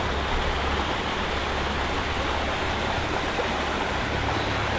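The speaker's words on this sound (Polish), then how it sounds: "Tutaj jakiś strumień w ogóle przepływa na dole." A stream flows below a road on the Yamanami highway in rural Japan, giving a steady, broadband rush of running water that holds even and continuous throughout, with no voices.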